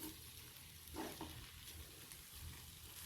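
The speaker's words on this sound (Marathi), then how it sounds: "पोहे छान परतून घ्यायचे." Poha with fried onion and tomato is stir-fried in a pan, a faint continuous sizzle with soft scraping strokes of the spoon, and no voices.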